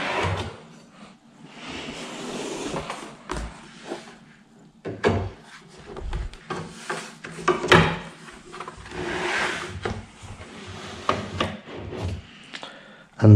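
Final drawer of an IKEA Alex chest of drawers being fitted and slid into place, giving a run of wooden knocks, scrapes and rubbing slides with irregular bumps throughout, close and fairly loud, with no talking.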